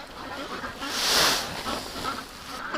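Ducks quack and honk in a busy flock, one louder call standing out from the ongoing chatter.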